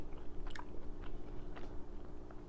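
Someone chewing a mouthful of eggplant caponata with onions, peppers, olives and capers, soft wet bites and chews repeating close to the mic against a faint background hum.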